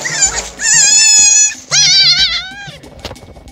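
A German Shepherd cries out in two long, loud, wavering whines just after catching a rabbit during a Maine hunt, followed by softer rustling.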